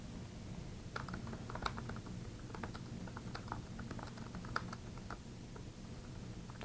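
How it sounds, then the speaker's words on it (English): Fingers typing a password on a computer keyboard, a quick, uneven run of light clicking keystrokes close up over a soft steady room hum. "Type in my password."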